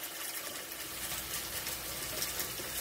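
Splashing, running liquid poured over whole raw chicken in a kitchen to clean it with vinegar and salt, a soft continuous gush at fairly low level with no talking.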